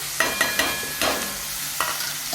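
Onion, capsicum, green chillies and garlic sizzle in a hot pan with fenugreek, loud and close, while a spoon stirs them in several distinct scraping strokes over the constant frying hiss.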